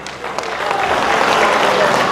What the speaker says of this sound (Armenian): Պես այ կողմն է ծափեր տալի